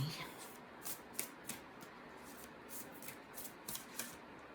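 Quiet rhythmic riffling of tarot cards being shuffled, a series of soft crisp flicks in short bursts, close by with faint room noise.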